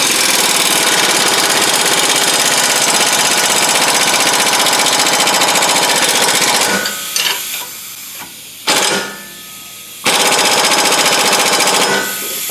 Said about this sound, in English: Alright, I got my air wrench all plugged in.